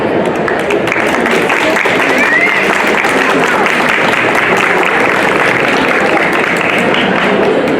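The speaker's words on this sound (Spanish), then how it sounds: "Un aplauso." A large audience applauds steadily at a book presentation, dense clapping holding at a loud, even level from start to finish.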